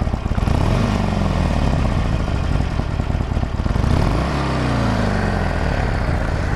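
A Harley-Davidson Forty-Eight motorcycle engine idles with a loud, steady rumble, then is revved up and eases back down, heard close by with no voices.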